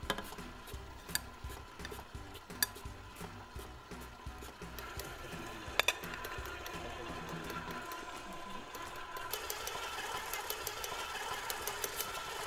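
An electric stand mixer runs at slow speed through fig cookie dough for Italian fig cookies, giving a steady mechanical whir and rattle that continues throughout, with a few small knocks and no talking.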